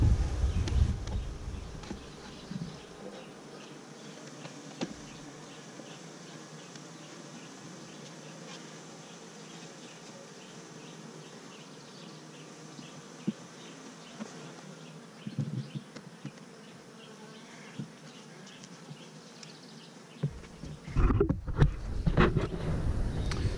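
Steady insect buzzing drones throughout, a dense hum of many honeybees close by at a hive during an inspection, with a few louder bumps and rustles near the end.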